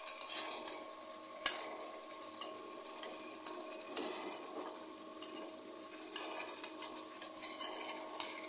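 A paste of ground chili, onion and tomato frying in a pan, a soft hissing sizzle with frequent light clicks and scrapes of a spoon, fairly quiet and close.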